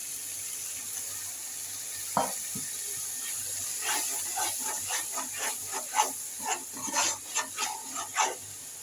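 A little water goes into a hot pan of egg and potato curry, setting off a burst of close sizzling and crackling that fades into a bubbling hiss.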